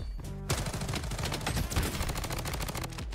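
An MP5 fires from the hip in the shooter game Bloodstrike, a dense, loud burst of rapid automatic shots that runs without pause for about three seconds.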